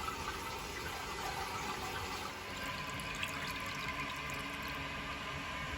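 Water rushes steadily into the cistern of a newly installed toilet flush, a continuous hissing fill at moderate volume with no talking.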